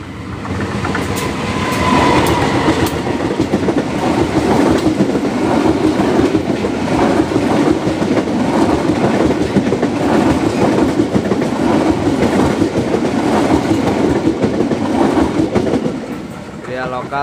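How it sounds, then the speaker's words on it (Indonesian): A Bandung Raya local train rolls past close by as it approaches Rancaekek station, with a loud, steady rumble and rhythmic clickety-clack of wheels over rail joints throughout. "lokal Bandung Raya persiapan memasuki stasiun Rancaekek ya"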